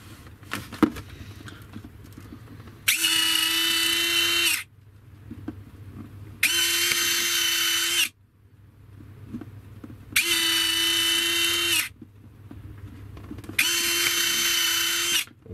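An RC de Havilland Vampire model jet motor runs rough in four separate bursts of high whining, gritty buzz, each lasting a couple of seconds, with quiet gaps and faint handling noises between them.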